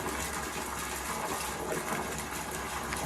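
Water gushing steadily as a farm tank is drained of old standing water mixed with medicine, a continuous loud rushing flow with no pauses throughout.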